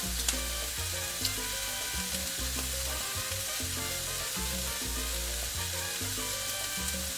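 Mushrooms frying in a pan while cooking Puerto Rican empanada filling, a steady close sizzle with faint stirring clatter running throughout, no voices.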